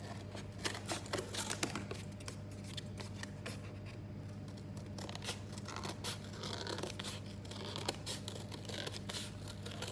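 Scissors cutting cardboard while crafting a poppy wreath, a run of crisp snipping and tearing strokes close by over a steady low hum, with no talking.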